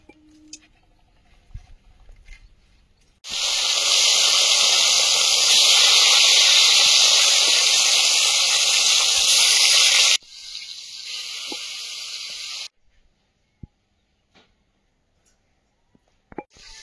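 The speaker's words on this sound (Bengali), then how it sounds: "এবার মাছ ভাজা বসিয়ে দেব।" Pieces of rohu fish hit hot oil in a wok with a sudden loud, steady sizzling hiss that holds for several seconds, then drops to a softer sizzle before fading to quiet with occasional clinks.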